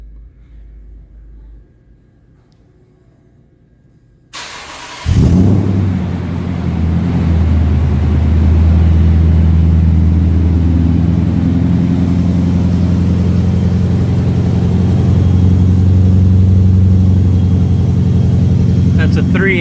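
A 2018 Toyota Tundra hot rod with a 600+ HP engine, long-tube headers and a 3-inch exhaust with an X pipe fires up by remote cold start with a sudden loud roar, then settles into a steady, deep, rumbling high idle.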